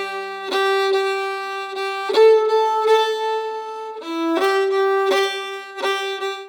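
A solo violin plays the same melody in binary rhythm, its bowed notes falling in even duple groupings, close and clear and unaccompanied by speech.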